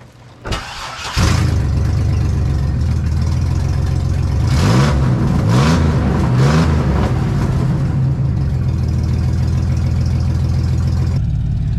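A 4.3 V6 engine cold-starts close by: a brief crank, then it catches and settles into a loud, steady high idle with a few flutters of revving, running continuously without talk.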